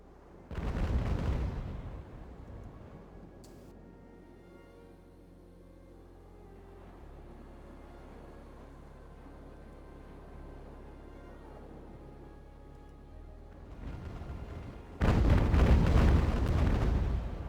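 Ultimate Admiral: Age of Sail ship cannons firing during a naval battle, two loud booming broadside volleys near the start and end with a low rumbling lull between them.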